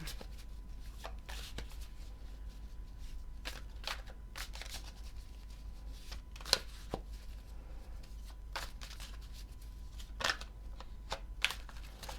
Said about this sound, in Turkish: farklı desteden kartlar seçiyorum